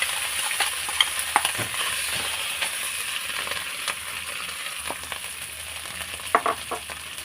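Potato pieces with ginger paste and green chilli frying in hot mustard oil: a steady close sizzle with irregular scrapes and clinks of stirring, no voices.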